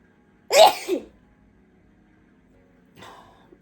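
A single loud, close sneeze bursts out in a quiet room, followed about two seconds later by a faint short vocal sound.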